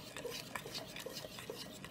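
Rice for Peruvian arroz con leche is stirred in a pot on the stove, giving soft repeated scraping and rubbing strokes of a spoon against the pot, steady and close, with no voices.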